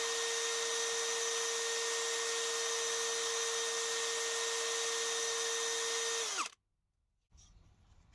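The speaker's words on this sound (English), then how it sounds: "why won't I just get a drill, bit of sandpaper," Power drill spinning steadily at high speed for about six seconds, a loud sustained whine that winds down and cuts off, followed by brief silence and faint handling noise; sandpaper on foam for shaping a fishing jig.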